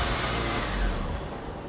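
VW Fox engine with a troublesome fuel injection system running after a start attempt, a loud close steady idle with a slight swell partway through, no voices.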